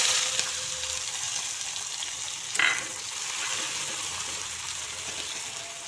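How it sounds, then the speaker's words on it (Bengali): Onions sizzle steadily in a generous amount of hot oil for a bottle gourd curry with prawns, a close, even frying hiss with one brief stir or splash midway. "এখন আমি সম্ভার দেব পেঁয়াজ দিয়ে।"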